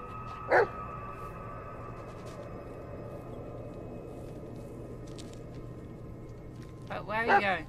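Bullet the dog in the Blair Witch video game gives a sharp bark early on, then a short burst of yips and barks near the end, over a low steady hum.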